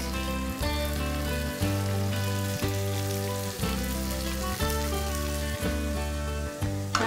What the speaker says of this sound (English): Now the onions will cook and we don't have to make them into a dark brown color.